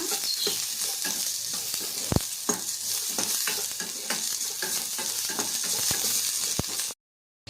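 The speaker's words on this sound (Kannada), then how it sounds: "ಒಂದು ಸ್ವಲ್ಪ ಹಸಿ ತೆಂಗಿನಕಾಯಿ ತಗೊಂಡಿದ್ದೀನಿ ಇದು ಸಹ ಸ್ವಲ್ಪ ಫ್ರೈ ಮಾಡಿಕೊಂಡು" Fresh coconut frying with coriander in a pan, a close steady sizzle with repeated scraping and clinking of a spoon stirring against the metal, ending abruptly in silence.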